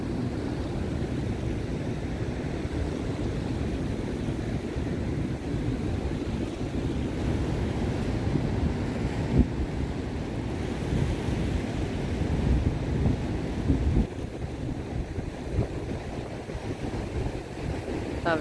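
Ocean surf pounds against rocks as a cyclone passes through a coastal town in Torres, Rio Grande do Sul, with a constant roaring wash of waves and wind buffeting the microphone, occasional heavier crashes standing out.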